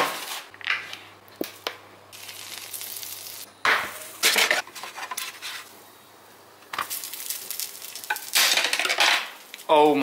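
A toastie frying in a pan sizzles in bursts, with sharp scraping and clinking of a utensil against the pan between stretches of steady crackle, close and fairly loud.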